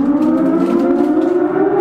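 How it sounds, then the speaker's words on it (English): A loud, steady wailing siren blares in a horror video game, a sustained droning tone with no pauses. "There's the siren."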